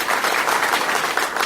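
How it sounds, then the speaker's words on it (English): A short burst of applause and clapping greets a special guest on a podcast, dense and fairly loud, with no words spoken over it. "A round of applause right now for you."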